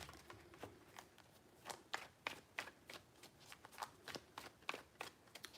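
Quick riffling and snapping of tarot cards being shuffled, a series of crisp bursts in a loose rhythm, fairly quiet and close with no voices.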